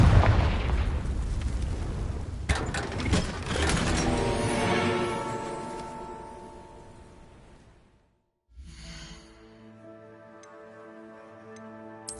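Bombarda and Confringo spell explosions in the video game Hogwarts Legacy, a dense run of booming blasts and crackling bursts that fades into a brief silence before quieter magical tones and ticks resume.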